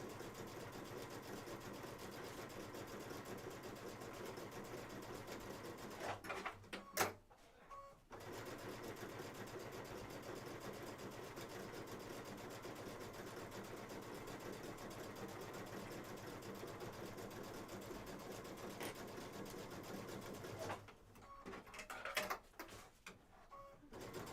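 A sewing machine stitches a Kimberbell July 4th quilt panel in a steady, even whir that runs for long stretches, stopping briefly twice with quiet pauses before resuming.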